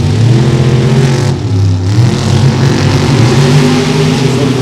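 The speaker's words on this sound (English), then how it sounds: "So the Corvette squirts out there very quickly." A 1988 Corvette drag racer launches hard off the line in Super Gas, its engine revving loud and close with rising, sweeping pitch through the run, one brief dip midway.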